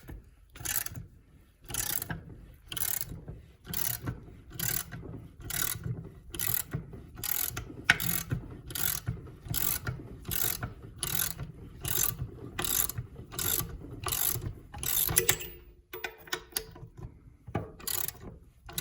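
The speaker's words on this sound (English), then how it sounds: "Last step is just to push the crank through." On a 1998 Suzuki RM 250 engine, the crank is being pushed out with a quiet, steady ratcheting: evenly spaced mechanical clicks repeat about twice a second for most of the stretch, then become irregular near the end.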